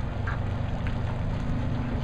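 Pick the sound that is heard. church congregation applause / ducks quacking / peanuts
ducks quacking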